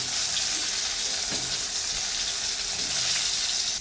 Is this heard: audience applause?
no